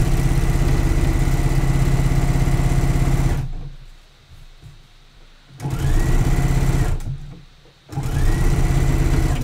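A sewing machine top stitches a swimsuit seam in rapid bursts: a steady whirring run, a pause, a short second run, another pause, then stitching resumes, all close and without talk.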